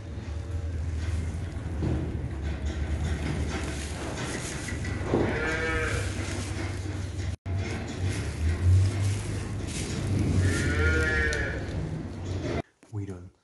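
Cattle on a farm, let out onto grass for the first time, moo in two long drawn-out calls that stand out over steady low rumbling noise and livestock bustle.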